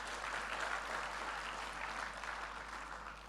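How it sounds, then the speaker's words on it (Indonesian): Church congregation applauding at a sermon, a steady dense wash of clapping hands that holds evenly throughout at moderate volume with no voices over it. "Tepuk tangan buat Tuhan Yesus"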